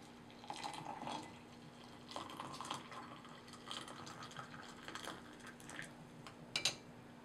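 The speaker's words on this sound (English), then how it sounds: "When you pour the water, pour it in a circle so your heat is evenly distributed" Hot water trickles and splashes faintly as it is poured in a circle over Red Robe oolong tea leaves in a small brewing vessel, with soft drips and a gentle, uneven flow.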